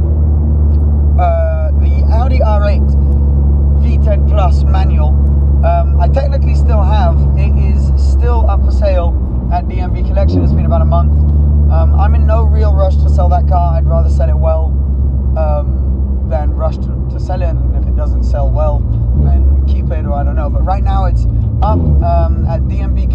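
A Ford GT drives along with its single-clutch gearbox, its engine a loud, steady low drone throughout while someone talks over it for most of the clip.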